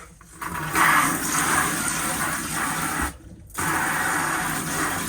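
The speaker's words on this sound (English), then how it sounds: "as long as the pump's on, you'll be able to use the shower tap" Water runs steadily from the pull-out shower tap at the sink of a Bessacarr 496 campervan, fed by the onboard pump; a continuous close hiss briefly drops out for a moment, then resumes.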